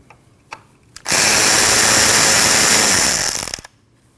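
A power tool whirs loudly and steadily for about two and a half seconds while backing out an 8mm bolt on a 2013-2019 Ford Escape, starting abruptly after a few faint clicks and stopping just as suddenly.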